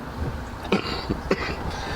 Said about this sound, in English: sorry about the coughing, y'all